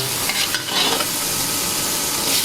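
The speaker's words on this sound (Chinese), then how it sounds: "放点花椒面，一点盐巴， 就翻炒。" Bolete mushrooms stir-fried with Sichuan pepper and salt in a pan, a continuous close sizzle with scraping stir strokes and no talking.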